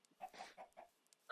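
A Minecraft chicken clucks quietly in a few short, choppy bursts, close but faint.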